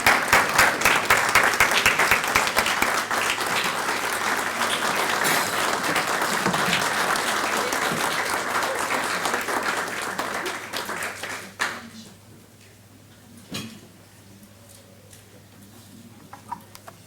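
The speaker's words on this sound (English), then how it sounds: "Let's stand and applaud." A standing audience at a service club luncheon claps loudly and steadily for about eleven seconds before the applause cuts off, leaving a quiet room with a few stray sounds and a low hum.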